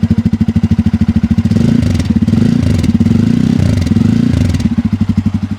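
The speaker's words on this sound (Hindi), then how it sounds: "अब आपको N250 और F250 के एग्जॉस्ट नोट भी सुना देता हूँ।" Bajaj Pulsar N250 and F250 motorcycles with a deep, bassy exhaust note, a steady loud thumping idle rising into a revving section in the middle, then settling back to a pulsing idle, with no talk.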